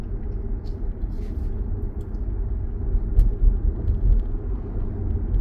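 BYD Seal electric car driving through city streets, heard from inside as a steady low road rumble and tyre noise, swelling slightly midway, with no talking.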